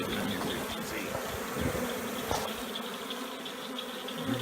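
A honeybee swarm clustered in the fork of a tree makes a dense, continuous buzz. The low hum is fairly soft and steady, with individual bees droning past now and then.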